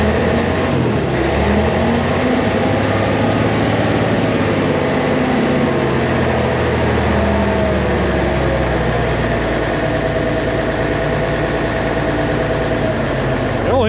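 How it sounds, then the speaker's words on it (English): An International TD-15c crawler's diesel engine runs steadily at idle, a loud, continuous low rumble with a constant throbbing rhythm throughout, no voices over it. "Engine sounds really good"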